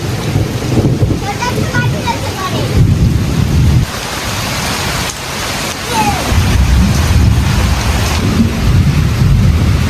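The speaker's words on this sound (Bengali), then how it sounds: "দেখুন দারুণ বৃষ্টি হচ্ছে, দারুণ দারুণ বৃষ্টি" Heavy rain pours down in a loud, steady roar, with gusty rumbling and wind buffeting throughout.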